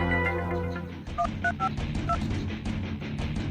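A steady electronic tone gives way to a few short, evenly spaced dialing beeps over a dull background hum.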